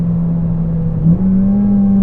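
A 2015 Honda Civic Si with bolt-on modifications hums in a steady, loud engine drone that rises slightly in pitch partway through, with a brief blip in the middle and no talking.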